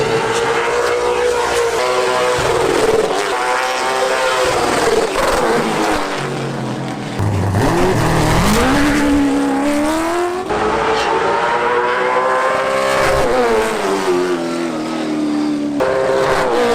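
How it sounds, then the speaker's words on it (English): A race car engine roars loudly and continuously as the car rolls off for qualifying at Florence Motor Speedway. The pitch rises and falls as it revs, with a brief dip partway through. "So we are getting ready to roll off for qualifying, and we are going out next to last."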